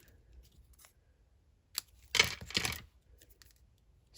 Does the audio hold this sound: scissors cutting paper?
yes